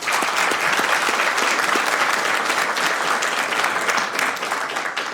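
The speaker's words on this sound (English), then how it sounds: "want to give them a round of applause" A city council chamber audience gives steady, dense applause for an honoree's family, many hands clapping together at close range throughout.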